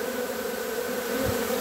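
Thousands of bees swarm and buzz in a dense, steady drone at close range, with a brief low thump near the end and no voices.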